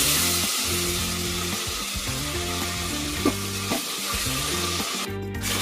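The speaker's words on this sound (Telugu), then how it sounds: "ఆయిల్ హీట్ ఎక్కి ఇందులోకి మసాలా సామాన్లు మొత్తం వేసుకోవాలండి" Whole spices, shahi jeera, coriander leaves and mint crackle and sizzle in hot oil for pulao, a continuous close frying hiss over background music, with a brief clatter near the end.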